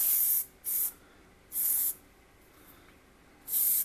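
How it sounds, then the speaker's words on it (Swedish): Short hissing bursts of spray paint aimed at a Volvo 745 fuel filler flap, four quick sprays of varying length with quiet gaps between, close and clear with no voices. "Det får bli lite sprayfärg på den."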